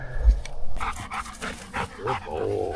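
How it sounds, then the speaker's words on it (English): Dogs bark and whimper up close in short, uneven bursts, with panting and soft whines between them. "Happy, happy dogs."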